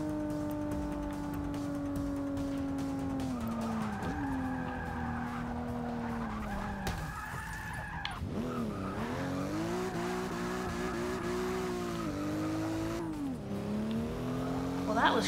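A BMW M235i in the Forza Motorsport 6 racing game brakes late, its tires squealing and skidding under a droning, shifting engine tone, with a voice talking over the sound.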